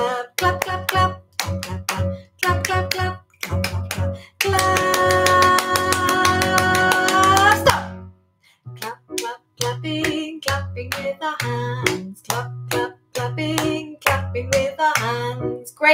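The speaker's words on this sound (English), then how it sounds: "Clap, clap, clapping, clapping with our hands." Hands clapping in a family music session: bursts of close, crisp claps in steady rhythm, with a fast continuous flurry in the middle, between sung or spoken voices.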